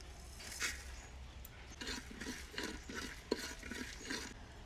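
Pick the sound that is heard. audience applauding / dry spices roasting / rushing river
dry spices roasting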